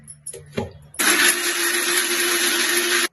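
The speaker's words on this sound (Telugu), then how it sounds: "గ్రైండర్ పట్టేద్దాం." A few soft clicks and knocks come first, then a mixer grinder roars on loud and steady, grinding ridge gourd peel chutney dry without water for about two seconds before cutting off abruptly.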